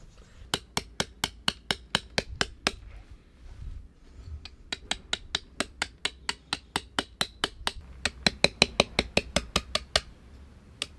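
A hammer drives a chisel into stone in sharp, close, ringing strikes, fast regular runs of blows broken by brief pauses, with no talking.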